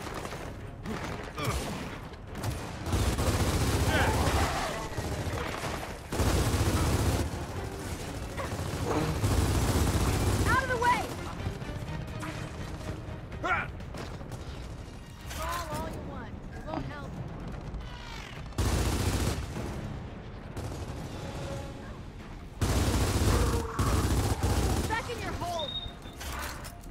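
Gunfire from the Gears of War 4 co-op campaign: loud bursts of shooting and heavy booming impacts come in repeated waves, with quieter mechanical gaps between them.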